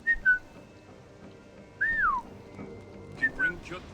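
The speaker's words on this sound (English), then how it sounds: "whistling." Someone whistles three short melodic phrases in Assassin's Creed Valhalla, each a bright rising-and-falling call separated by pauses, over a faint background.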